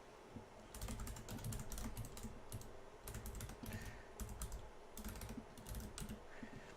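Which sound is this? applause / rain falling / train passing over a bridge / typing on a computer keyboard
typing on a computer keyboard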